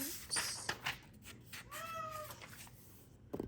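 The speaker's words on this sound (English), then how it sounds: "Oh my God, my cat." A house cat gives a single drawn-out meow, clear and fairly close, in an otherwise quiet room with small rustles around it.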